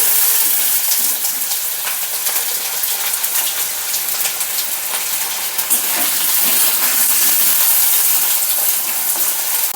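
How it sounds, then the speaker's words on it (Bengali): Potatoes frying in oil give a steady, loud sizzling hiss that barely changes from start to finish, with no voices over it. "আলুগুলো দিয়ে দিচ্ছি তেলে ফ্রাই করতে তো হালকা হালকা করে আলুগুলো আমি ফ্রাই করে নিচ্ছি"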